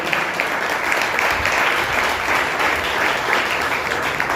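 Sustained applause from a big audience at a church service, many hands clapping at once in a full, unbroken roar that holds steady throughout.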